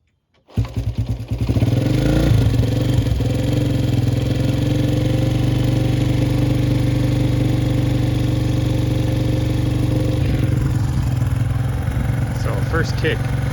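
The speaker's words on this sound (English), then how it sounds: "First kick after sitting for 3 months, it almost started, and then I had to adjust the choke, and then it started." A Honda SL100 motorcycle, sitting unused for three months, catches on a kick start and settles into a steady, loud single-cylinder idle close by, with a voice speaking briefly near the end.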